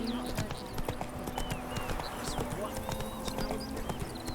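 Hooves of Roach, a horse in The Witcher 3 video game, clip-clop in a steady trot over an outdoor soundscape with birdsong, with a brief whinny and occasional speech.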